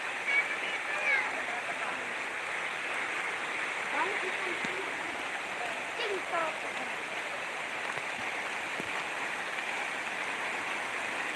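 Rain falling steadily outdoors during a fishing trip, a constant broadband hiss with scattered droplet patters and faint splashes, fairly loud and continuous throughout.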